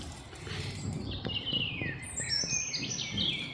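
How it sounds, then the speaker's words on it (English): Small birds chirp and twitter in quick, bright bursts a short way off, over faint rustling and a low background hum. "Listen to the birds."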